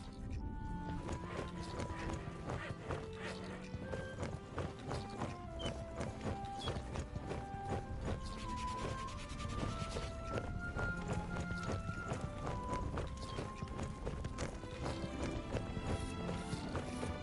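Horse hooves clip-clop in a fantasy video game, a fast steady run of hoof beats set against a constant musical score, moderately loud, with no speech over them.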